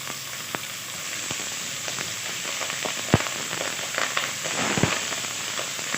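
Vegetables sautéing in a pan for homemade chicken stock, a steady soft sizzle with scattered crackles and pops, running alone without voices.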